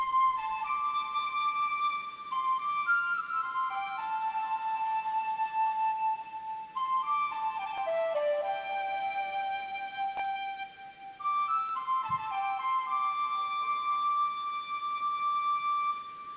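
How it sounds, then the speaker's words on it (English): Melodic flute tune from the Pokémon Legends: Arceus video game, steady notes stepping up and down in a continuous phrase over a soft background, with a brief low thump near the middle. "I do love the flute."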